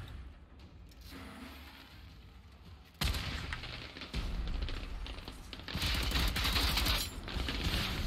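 Gunfire in Generation Zero comes as dense, rapid bursts of shots that grow louder and more sustained across the stretch, with booming impacts mixed in.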